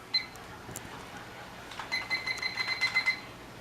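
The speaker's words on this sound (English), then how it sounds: "So now let's go ahead and start the timer." A kitchen timer for a cheesecake gives a quick beep, then a run of rapid electronic chirps as buttons are pressed, faint against a quiet room hiss.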